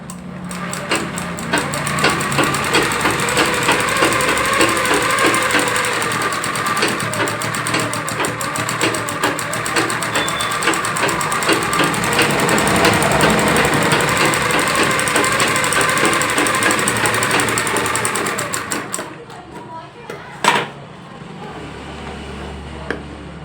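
A sewing machine stitches a seam on fabric, a fast, continuous mechanical rattle close by that runs for about nineteen seconds, then stops, followed by a few faint clicks and handling noises.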